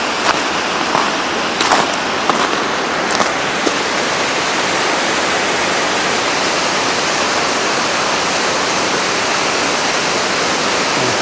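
Broadband rush of water flowing steadily beneath a small footbridge near a village in the Vallée d'Aspe, loud and close, with a few faint knocks early on and no voices.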